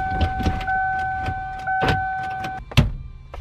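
A car engine is cranked repeatedly without starting, giving short whirring, grinding bursts close by in an uneven rhythm, followed by a louder final attempt.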